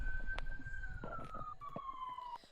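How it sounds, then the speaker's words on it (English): Police siren wailing in the distance, a thin steady tone gently falling in pitch, faint under soft background noise and scattered clicks. "There's a siren."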